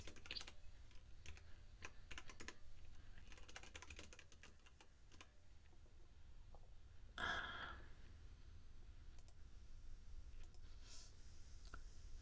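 Quiet, rapid typing on a computer keyboard while writing C code, bursts of close key clicks and pauses over a low background hum, with a brief breathy noise midway.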